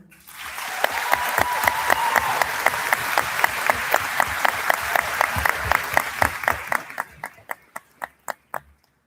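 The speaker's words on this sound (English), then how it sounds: "please join me in a round of applause to welcome to the stage and congratulate the PCHS valedictorian" A graduation audience at PCHS applauds the valedictorian: dense, sustained clapping that fills the hall, then thins in the final seconds to a few scattered, separate claps.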